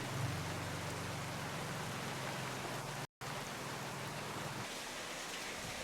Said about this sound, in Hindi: लोग कह रहे हैं कि आज की बारिश आम नहीं है, तूफान है।